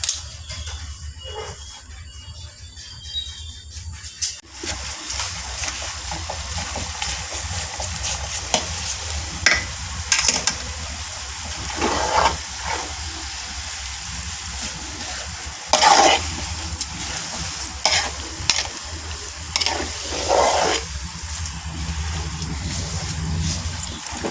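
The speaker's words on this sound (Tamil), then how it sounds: "நல்லா எண்ணெயை காய்ச்சிக்கலாம்" Pure wood-pressed coconut oil soaked with herbs heats in a pan for homemade herbal hair oil, giving a steady low sizzle with intermittent stirring scrapes and clinks over a long stretch.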